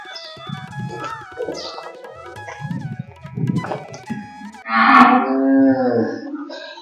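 Cattle at a cow shelter low and call repeatedly, several overlapping moos near and far, ending in one loud, long, close bellow.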